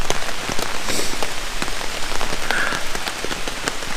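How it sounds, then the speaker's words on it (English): Heavy rain from a storm pours down in a loud, dense patter of drops striking a nearby surface at a forest campsite, steady and unbroken with no voices. "Storm's blowing in."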